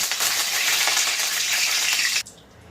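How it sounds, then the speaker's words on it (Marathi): Curry leaves drop into hot oil and set off a loud, bright crackling sizzle that holds steady, then cuts off abruptly near the end, leaving a faint low hiss. "आता आपण कढीपत्ता तळून घेणार आहोत"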